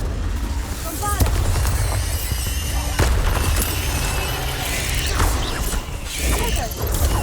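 Spell-casting blasts in Hogwarts Legacy, a dense stream of loud booming explosions and crackling magic hits piling over each other with sharp impacts scattered throughout, battle noise constant and close.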